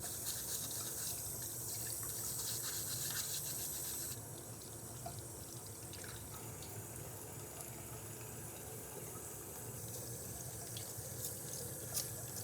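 A brush scrubs grime off an old aquarium pump in a close, steady run of wet rubbing and swishing strokes over a constant hiss, with a small knock near the end.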